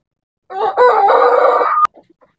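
A rooster crows once, loud and close, in a backyard chicken yard, the call rising and holding steady before cutting off sharply, followed by a few faint clucks.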